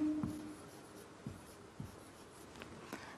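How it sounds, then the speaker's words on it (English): A pen or pencil scratches out the Hebrew letter mem by hand on paper, with a few faint, short strokes and scrapes close by in an otherwise quiet room. "The letter mem you write also in between the lines, one continuous flow."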